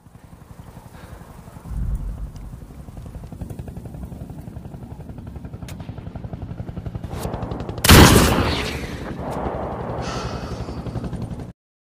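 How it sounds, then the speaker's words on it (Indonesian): Sniper gunshots in a combat setting in Iraq: a sharp, loud crack near the 2-second mark and a louder, close blast around 8 seconds, over a constant low rumble of engine or rotor noise. "Beberapa tembakan dari sniper itu mengarah ke Ishak, namun tidak ada satu peluru pun yang mengenainya"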